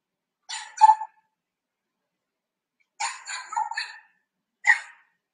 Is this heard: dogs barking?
yes